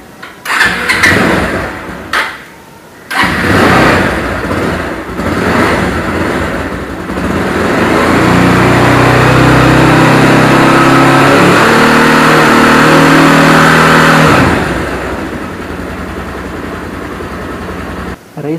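A Bajaj Pulsar 220F motorcycle with a new battery fitted gives a couple of short cranks, then starts and revs up loudly, holds a high steady roar for several seconds and settles back toward idle.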